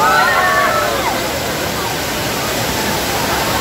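Taytay Falls in Laguna roars as a loud, constant rush of falling water close by, with faint voices of a crowd mixed into the dense wash.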